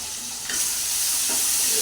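Tomato and onion sautéing in a home kitchen pan, a steady sizzling, frying hiss with light stirring scrapes, close and continuous throughout.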